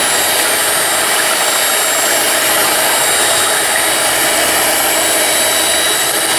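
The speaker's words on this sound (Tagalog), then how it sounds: "using a wire whisk or hand mixer, i-mix natin ito" Hand mixer whirring steadily at high speed while mixing ube flan cake batter, a loud, constant buzzing drone from start to finish.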